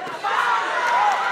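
Crowd noise fills a boxing arena during a bout between Kenneth Llover and James Pagaling, a steady loud roar of many voices with shouts rising after the first moment.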